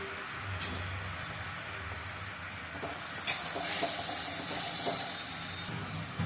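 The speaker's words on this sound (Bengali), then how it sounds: "এবার আমি ছোলাটা জেলে মশলাটা কষিয়ে নেব" Chickpeas and spices with coriander powder sauté in a pan, giving a soft, steady sizzle with occasional stirring clinks and scrapes, fairly quiet and with no talking.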